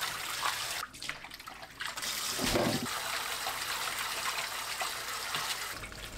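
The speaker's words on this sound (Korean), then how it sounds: "찬물에 2~3번 헹궈주세요." Blanched chwinamul greens are rinsed in cold water, making a continuous splashing and running-water rush close by. Small swishes and dips break the steady flow as the greens are handled.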